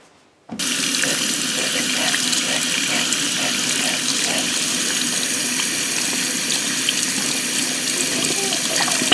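Tap water runs steadily from a faucet into a sink, a loud, continuous broadband rush that starts abruptly after half a second and holds unchanged to the end, with no voices.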